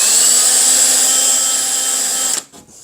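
Power drill boring a hole through a 2 by 4 into a stud, a loud steady high-pitched whine that cuts off abruptly near the end, followed by brief quiet handling noise.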